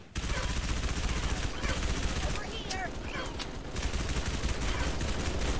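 Turret gunfire in the video game Halo (MCC), a steady rapid stream of shots that runs almost the whole time amid busy battle noise.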